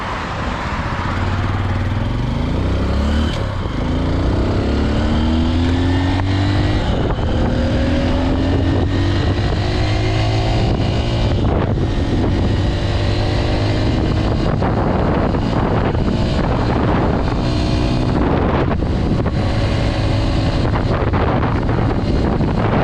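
A Honda XR150L dual-sport motorcycle cruises on a highway, its single-cylinder engine droning steadily with rising and falling pitch as it shifts, loud and close under constant wind buffeting across the microphone.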